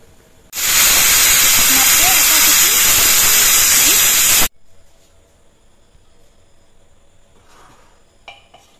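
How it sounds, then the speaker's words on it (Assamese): A pressure cooker with chicken curry inside lets out one loud, steady blast of hissing steam that lasts about four seconds and cuts off abruptly, followed by quiet kitchen background. "তাৰপিছত এতিয়া মই ঢাকনিখন ভালদৰে মাৰি দিম। মাত্ৰ 2টা চিটি মাৰিম।"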